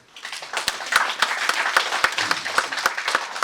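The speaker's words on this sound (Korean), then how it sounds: "자부하시면 박수 한번 보내십시오." Lecture-hall audience clapping together at a Korean ethics lecture, a dense, steady patter of many hands sustained throughout with sharper individual claps popping out, no speech over it.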